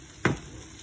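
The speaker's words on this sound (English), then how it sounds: "See that the frying around on the edge is what you want." Cornbread batter hits a hot iron skillet with a single brief sizzling hiss that quickly fades into a faint, steady frying crackle.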